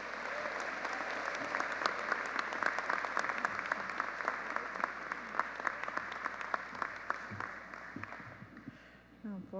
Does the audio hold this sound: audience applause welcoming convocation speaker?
yes